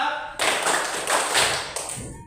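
Rhythmic hand clapping from a classroom of students playing a counting clap game, a dense burst of claps starting after a brief pause and continuing in waves, with a teacher's voice calling out over it.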